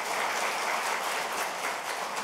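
An audience at a self-sufficiency policy forum gives sustained, even applause for two presenters, a dense wash of many hands clapping throughout.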